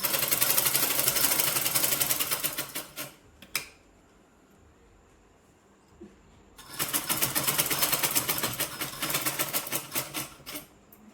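A sewing machine stitching a dress runs in two long, loud, rapid bursts of needle clatter, separated by a quiet pause with a few small clicks, close and steady.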